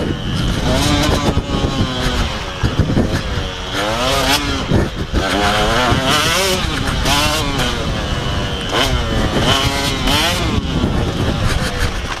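A KTM 125 motocross motorcycle engine, idle for several years and running a little rough, runs loudly and close up, its pitch rising and falling with repeated revs throughout.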